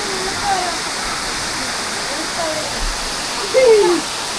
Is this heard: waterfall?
yes